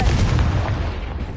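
Confringo fire spell cast in the Hogwarts Legacy video game, a dense low booming blast that rumbles continuously through the short moment, loud and close like artillery fire, with no voices.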